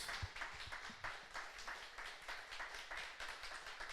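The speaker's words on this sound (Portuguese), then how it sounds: "E uma salva de palmas para Jesus" A church congregation claps together for Jesus during a service, steady mass applause filling the room at moderate volume for the whole stretch, with occasional low thumps beneath it.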